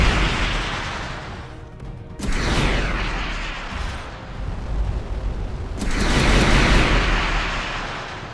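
Enemy ships fire in the space game Starcom: Unknown Space, heavy rumbling bursts of weapon fire and explosions arriving in waves with a short lull between them, loud and close.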